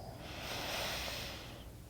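One slow, soft breath in yoga child's pose, a close, airy rush that swells gently and then fades, with no talking over it.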